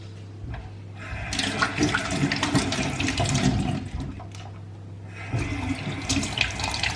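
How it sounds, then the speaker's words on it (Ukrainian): Tap water runs into a sink while a syringe is washed under the stream, splashing and gurgling close by. The flow changes as the syringe moves in and out of the water. "мию шприц"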